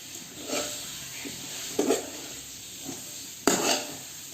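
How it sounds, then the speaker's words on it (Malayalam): Beef roast stirred in a pan hisses and sizzles steadily, with a few scraping strokes and a sharper clatter of utensil against metal toward the end. "നല്ല വെണ്ണം തന്നെ ഒന്ന് ഇളക്കി കൊടുക്കുക"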